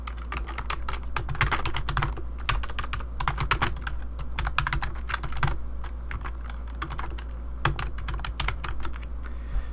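Steady, rapid typing on a computer keyboard, close and clear, with clusters of quick key clicks and brief pauses between bursts; no talking.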